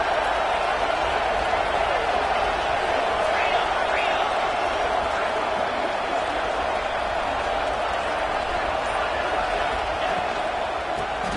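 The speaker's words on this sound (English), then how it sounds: "It's early, but this crowd is fired up. Listen to this noise here." A large stadium crowd at a Florida vs Georgia Tech college football game roars in a dense, continuous wash of cheering, with commentators talking over it.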